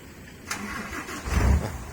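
An S900 combine harvester's engine runs at a steady mid-pitched drone while it drives onto a trailer, swelling briefly with a deeper rumble before settling back.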